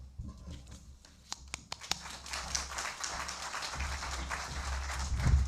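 Audience applause at a conference opening ceremony: a scattered patter of clapping from a crowd with a few sharp, louder claps near the start, building to a steady, moderate wash of hands that swells slightly at the end.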